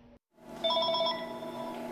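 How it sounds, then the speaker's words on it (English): A telephone rings at a medical marijuana center, a bright electronic trill starting after a brief silence, loud and close, with no talking. "The phones at medical marijuana centers have been ringing off the hook today."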